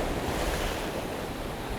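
Waves moving on a rocky shore during winter fishing, a steady broadband wash of surf with some wind rumble, continuous and fairly close, no voices.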